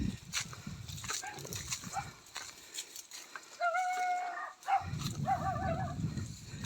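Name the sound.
dog barking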